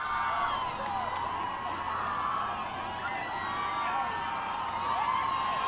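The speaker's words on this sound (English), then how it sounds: "the crowd is cheering like you're at a concert" A large outdoor crowd cheers and whoops continuously as a total solar eclipse reaches totality, a dense, sustained roar of many voices at close range with no single talker standing out.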